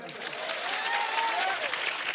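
Audience clapping steadily at a live Marathi stage talk, dense broadband applause continuing throughout with a faint tonal sound drifting beneath.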